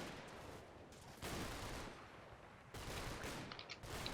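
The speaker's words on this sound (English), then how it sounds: "there's someone's got some automatic weapon in there" Faint automatic weapon fire in the WWII strategy game Combat Mission: Battle for Normandy, bursts of shots coming in clusters with quieter gaps between them, sounding distant and low in level.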